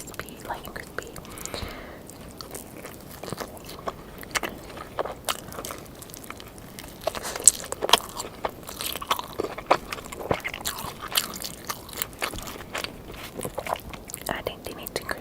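Close-up eating of a Pizza Hut Detroit-style double cheesy pepperoni pizza, with soft irregular bites, chewing and faint crunches through the whole stretch, some soft whispered sounds in between.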